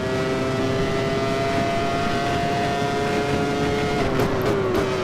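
A Peugeot engine in a 1996 Formula 1 car at Imola in a racing game, holding a loud, steady high-pitched drone with a slight pitch shift near the end.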